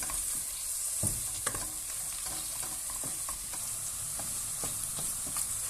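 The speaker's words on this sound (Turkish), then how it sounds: "Şimdi kapya biberimi ve sarımsaklarımı ekliyorum. Çok hafif bunları da öldüreceğim." Red peppers and garlic are added to carrots in a pan for a vegetable soup and sauté with a steady hiss, broken by scattered clicks and scrapes as a utensil stirs them. No one talks.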